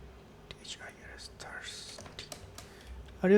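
Code typed on a computer keyboard: a quick, uneven run of light key clicks close by, with soft breathy vocal noise mixed in.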